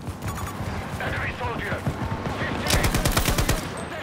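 Rapid bursts of automatic gunfire ring out in a video game battle, loud and crackling, with a heavier volley near the end, while players talk over the shooting.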